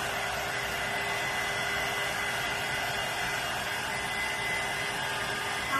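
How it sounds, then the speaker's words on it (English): A hair dryer blows steadily on a fruit truck model after tape is peeled off, a loud, continuous whooshing hum with a faint steady whine running unchanged throughout. "I'm going to hit this with the dryer"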